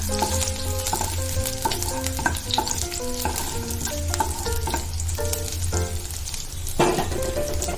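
Chopped chillies fry in hot oil in a pan with a steady sizzle, while a utensil stirs and scrapes against the metal, giving repeated ringing clinks and scrapes near the listener.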